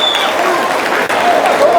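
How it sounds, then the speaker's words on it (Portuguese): Football supporters of the Remo team applaud in a stadium, a dense wash of clapping and crowd noise heard from a distance, continuous over a brief moment with a voice talking over it. "Olha aí, a torcida aplaude o time."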